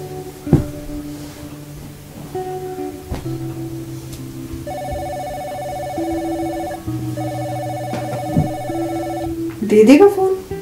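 A telephone rings in repeated electronic bursts with short pauses between them, steady and fairly close, with a few faint knocks and voices around it.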